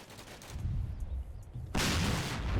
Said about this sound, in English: That's a tank shell hitting the building, so yeah, he's definitely shelling the place.